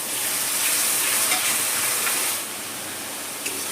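Tomato paste hitting hot oil with well-fried garlic for a garlic potato dum, a loud, close, bright sizzle and hiss that drops to a softer steady frying after a couple of seconds, with a small clink near the end.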